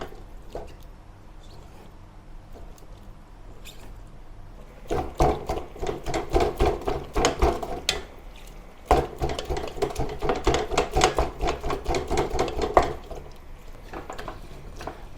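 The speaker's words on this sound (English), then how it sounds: "Continue cooking and use the wooden spatula to further break it down into smaller pieces." A wooden spatula scrapes and presses drying shredded pork in a pan while making Chinese-style pork floss, two stretches of rapid soft scraping and patting strokes, moderately close, separated by a brief pause and preceded by quiet sizzling.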